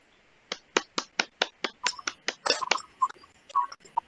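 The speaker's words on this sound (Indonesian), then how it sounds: "Mari kita semua memberikan aplaus kepada Wawan" Classroom applause for a pupil: about a dozen crisp, evenly spaced claps in unison, followed by a few looser, scattered claps as it trails off.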